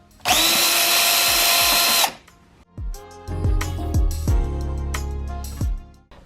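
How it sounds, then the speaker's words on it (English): A power drill with a Torx T30 bit runs in one loud, close whir for about two seconds while removing a bonnet strut screw on a Ford Focus RS, followed by clicks, clunks and handling of parts. "It requires a Torx T30 bit to get that out, so we're going to remove this on both sides."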